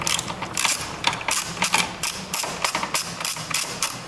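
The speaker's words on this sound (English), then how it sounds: "we're going to switch to a 10mm socket to get the rest of that out." A ratchet fitted with a 10mm socket backs out bolts on the bracket of a Jet module computer on an SRT Hemi, a run of quick, close metallic clicks coming in short bursts with no voices.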